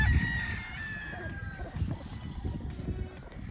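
Golden Boy brood stag roosters crow in a breeding yard, one crow up front followed by clucking fowl at mid distance, over a low rumbling backdrop and faint background voices.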